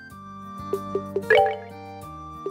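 A water spell called E-splash cast in the Legend of Heroes: Trails in the Sky SC video game: three quick dripping plops, then a bright, bubbling splash burst, all over steady background game music.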